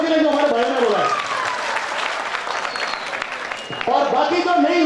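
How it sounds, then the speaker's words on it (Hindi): Seated audience at a Mumbai business event claps in a dense, sustained burst of applause, with an announcer speaking over the start and again as the clapping ends. "तो बहुत बहुत तालियां 150 के लिए जो हमारे भाई ने बोला।"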